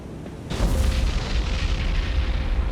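Bombs dropped in the naval combat game War On The Sea score a direct hit, a sudden heavy boom followed by a long, loud rumbling roar that keeps going without fading.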